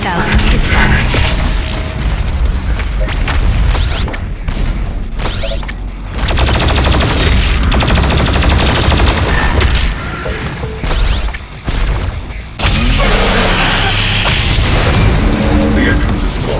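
BFG 10,000 firing in Doom Eternal, a loud, dense roar of mechanical booms and heavy blasts that runs almost continuously, with brief drops in level and game voice lines over it.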